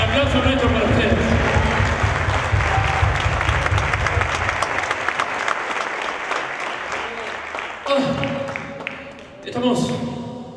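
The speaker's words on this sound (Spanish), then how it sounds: "El aplauso nuestro para ustedes." Dense, sustained applause from a theatre audience at a tribute concert in the Teatro Municipal Luis Conti. Tonal sound and voices run beneath it, and the clapping thins and briefly swells again toward the end.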